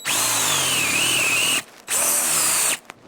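A battery drill bores a hole for a 1/8 inch pipe thread, whining loudly and steadily in two long bursts separated by a short pause, its pitch dipping slightly under load.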